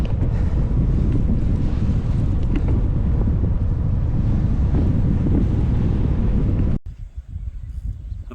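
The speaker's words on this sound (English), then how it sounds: "now it's a headwind again." Strong headwind buffeting a cyclist's microphone during a Ragbrai ride in Iowa, a loud rumbling roar that runs steadily and then cuts abruptly to quieter gusts near the end.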